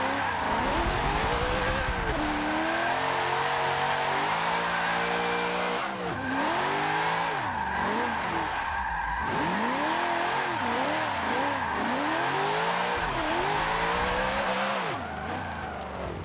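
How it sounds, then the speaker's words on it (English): 2009 Chevrolet Corvette ZR1 drifting in Forza Motorsport 7, a continuous loud engine roar rising and falling with throttle under steady high tire squeal, sliding on and off across the run with no talk. "So that was the third attempt of trying to drift it."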